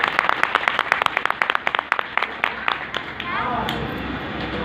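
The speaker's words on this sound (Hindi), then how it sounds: "एक जोरदार ताली उन सबके लिए, एक जोरदार ताली।" An audience at a speech event in Gopalganj, Bihar, claps in a burst of sharp, separate hand claps that blends into scattered applause, mixed with some talk.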